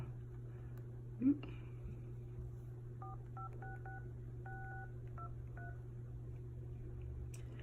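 An iPhone 4S dialer keypad gives a run of about ten short electronic tones, evenly spaced and clean, over a low steady hum with a single soft knock near the start.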